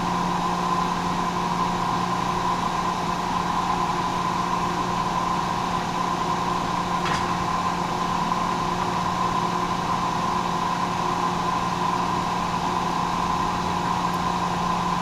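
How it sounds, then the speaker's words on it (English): A milling machine cutter spins at 720 RPM while cutting metal, giving a steady, even mechanical hum with fixed tonal whine that runs unbroken and fairly loud throughout. "I'll move the cutter in here, and then we're just going to start making chips."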